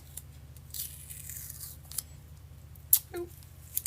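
Something is torn by hand in a quiet room during a hobby painting session, giving a few brief, soft ripping bursts with near silence between them.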